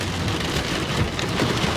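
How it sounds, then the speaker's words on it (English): Steady rain pours on surfaces in a village, a dense continuous hiss with a low rumble underneath, close and loud with no voices. "It's raining."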